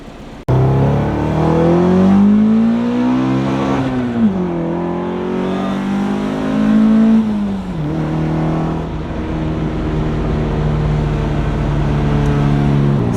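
A Toyota 86 fitted with a swapped 2-litre 3S Beams engine and six-speed gearbox pulls hard, the engine note rising loud and close through several gears with dips at each shift, then holding steady.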